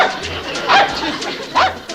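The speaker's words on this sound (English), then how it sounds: "Stupid dog." A dog gives two short barks roughly a second apart, fairly close and loud, over a murmuring background.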